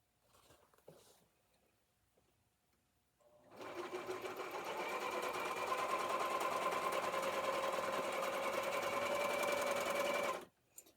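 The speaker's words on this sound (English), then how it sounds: "Now I'm going to put these face to face. Make sure they're good. And I'm going to sew that down." A sewing machine stitches apron pieces in one long steady run of about seven seconds, whirring with a fast even rhythm, preceded by a few quiet handling sounds and ending abruptly.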